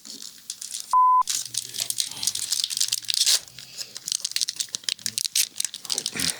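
A sealed pack of collectible trading cards, like old baseball card packs, is torn open up close, with sharp crinkling and ripping wrapper noises in quick bursts and a brief tone near the start.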